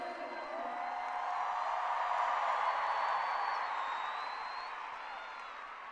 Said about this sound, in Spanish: Un fuerte, fuerte aplauso.